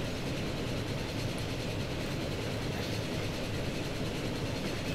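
A second empty steel freight train in the railway game Transport Fever rumbles past close behind another, producing a continuous, even roar of rolling wagons at a quiet to moderate level.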